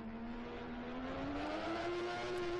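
Synthetic car engine from a 2D car physics simulation game accelerating steadily, a single droning tone climbing in pitch as the throttle opens, continuous and fairly loud with no talk.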